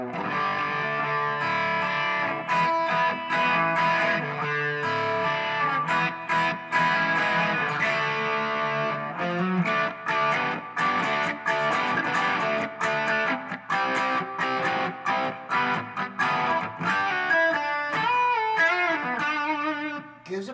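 Rickenbacker 620 electric guitar played through crunchy gain, a continuous loud distorted riff of chords and single notes with rhythmic palm-muted chugs, no voices over it.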